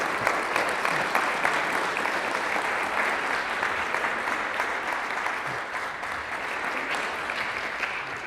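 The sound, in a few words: audience applause after a lecture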